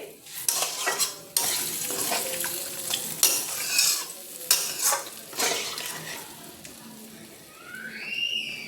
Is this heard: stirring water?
yes